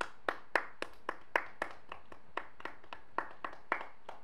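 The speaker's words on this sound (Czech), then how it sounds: "Prosím, potlesk." An audience at a guild award announcement claps in a sparse, steady rhythm of about fifteen distinct hand claps, fairly quiet and without cheering.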